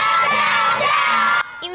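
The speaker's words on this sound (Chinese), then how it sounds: "粉丝尖叫声不断" Fans at an airport scream and cheer as an Olympic taekwondo athlete arrives, a loud, dense crowd roar of high-pitched shrieks that cuts off abruptly near the end, leaving a brief quieter tail.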